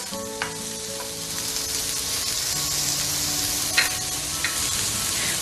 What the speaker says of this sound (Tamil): இது நல்லா பொன்னிறமாகிற வரைக்கும் இதை நல்லா வதக்கி விட்டுக்கணும்